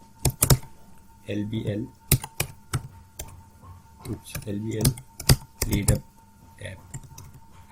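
Bursts of computer keyboard typing, quick clicking keystrokes in short runs, alternating with someone speaking at close range.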